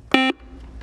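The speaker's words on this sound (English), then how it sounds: "that buzzer means our first toss-up round is over" A quiz game buzzer at a student academic competition sounds one loud, harmonic electronic tone lasting about a fifth of a second, then cuts off, leaving faint room noise.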